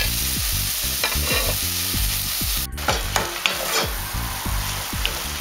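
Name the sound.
onion, garlic and grated carrot sautéing in oil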